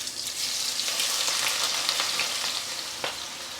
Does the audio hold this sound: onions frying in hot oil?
yes